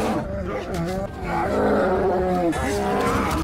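A grizzly bear roars in a long, loud, sustained growl that wavers and swells, with a short break before the roar resumes, heard up close and alone.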